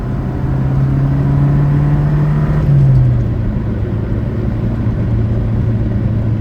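A Saab 900 engine hums and rises in pitch as it accelerates on a cool winter night, then settles into a steady drone after a gear change, with no talking.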